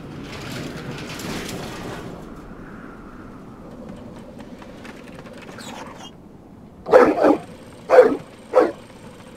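Mechanical dogs bark in the adventure game Syberia 3, three sharp, loud barks in quick succession near the end after a stretch of quiet ambient game sound.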